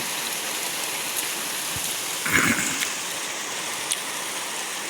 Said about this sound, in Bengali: বছরের প্রথম বৃষ্টিটা শুরু হয়ে গেছে আজকেই